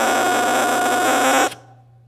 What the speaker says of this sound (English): When you play it by itself, it sounds like this.